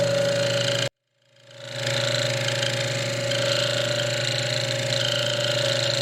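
A diamond wheel on a lapidary machine grinds and polishes a large chrysocolla bead with a steady, close motor hum and whine. The sound cuts out briefly near the start and then spins back up to a continuous drone.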